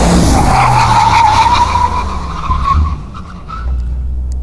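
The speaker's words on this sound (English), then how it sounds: "And now full brake." Mercedes-AMG G-Class under full braking, tires skidding and squealing in a loud sustained screech that falls slightly in pitch over several seconds, with engine and road rumble underneath and no talk.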